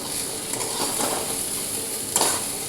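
Pumpkin, seasoned with salt, turmeric and a little sugar, sizzles steadily as it fries in a pan. Now and then comes a scrape of stirring, with a slightly louder stir near the end.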